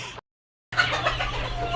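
After a brief cut to silence, several Brahma chickens cluck in a busy, muffled jumble against a noisy background.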